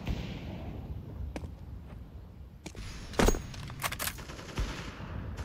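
Gunfire in the video game Counter-Strike 2 comes as scattered sharp shots and short bursts, some distant and one louder nearby, over quiet game ambience.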